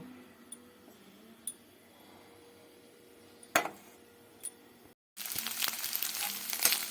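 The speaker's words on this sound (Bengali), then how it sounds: "এই তেলটা গরম হয়ে গেলে আমি যে ডিমগুলো রেখেছিলাম সেটা আমি একটু আমলেট করে ঝুরি ঝুরি করে নেব" Eggs fried and scrambled in hot oil in a wok, starting as a quiet low sizzle with a few sharp clinks of utensil on metal, then bursting into loud, dense crackling sizzle as they hit the pan.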